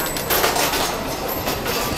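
Passenger train in Japan riding on rails, heard from inside as a steady, broad rumbling roar with faint rhythmic clatter throughout.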